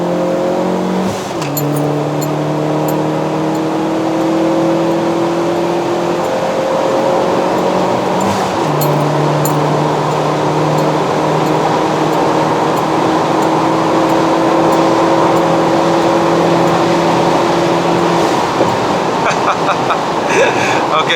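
A Proton Inspira 2.0P with a five-speed manual gearbox and a bolt-on turbo accelerates hard through the gears, its engine note climbing in long sweeps with brief dips at each shift, heard from inside over steady road and wind roar.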